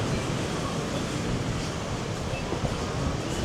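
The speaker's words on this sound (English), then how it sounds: "now it's not so warm with all this wind. But look at those waves coming in." Strong wind roars steadily against the microphone while ocean waves wash in on the Tenerife shore during Storm Therese, a dense continuous rush with no clear breaks.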